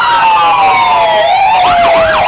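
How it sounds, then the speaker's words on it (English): A Park River Fire Department rescue vehicle rolling through a small-town Fourth of July parade, its siren wailing loud and close with a rising-and-falling electronic warble. "rescue vehicle from the Park River Fire Department with a tanker truck right behind"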